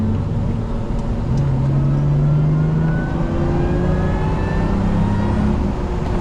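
A 1995 Aston Martin DB7's engine accelerating, a steady deep rumble with rising tones climbing as it pulls, heard from inside the car, loud and continuous.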